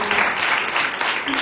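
Church congregation applauding during an Urdu sermon, a dense continuous patter of clapping filling the whole moment, loud and close, with a voice faintly mixed in.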